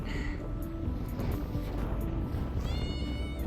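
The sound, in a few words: barn cat meowing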